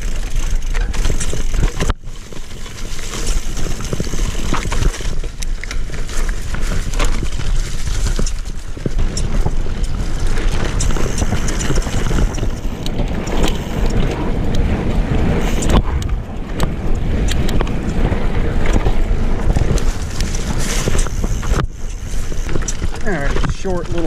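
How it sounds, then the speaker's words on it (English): Mountain bike on Plus-size tires rolling over a dirt trail, loud continuous rumble of tires and rattling with heavy wind buffeting on the microphone throughout. "So I'm heading out on the Plus bike first."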